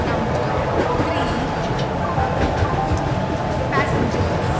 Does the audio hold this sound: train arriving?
yes